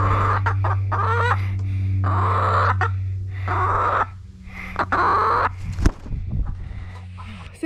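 Free-range chickens cluck and call in short bursts close by over a low steady hum, with a few scuffs and knocks near the end.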